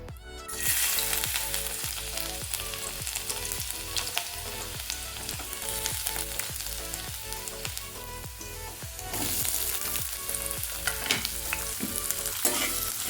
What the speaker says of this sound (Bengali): কেটে রাখা আমার রসুন আদা আর পেঁয়াজ কুচিটা আমি একে একে তেলে দেবো